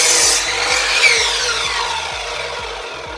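Chicago Electric 10-inch miter saw cutting a 2x3 whitewood stud, a loud close rasping cut through the wood over the running motor whine, easing off toward the end.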